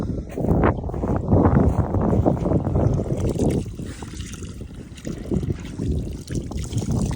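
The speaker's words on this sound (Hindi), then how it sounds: "ये पानी आ रहा है देखो।" Water pours from a pipe outdoors on sandy ground near an off-road vehicle, a close, continuous gushing and splashing that swells and dips slightly over several seconds.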